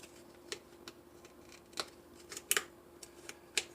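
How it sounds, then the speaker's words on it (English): Scissors snip through the lid of a water-solution container in a DIY water-and-metal electricity build, giving a handful of sharp, close clicks at irregular intervals with short gaps of quiet between them. "I'll just use these scissors."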